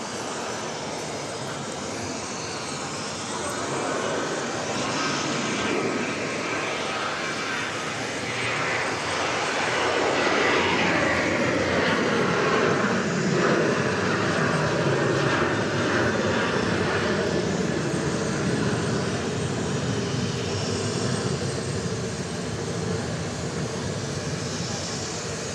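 Jet aircraft departing Dallas Love Field during a total solar eclipse, a broad engine roar that swells loud and then holds as a steady distant rumble for the whole stretch.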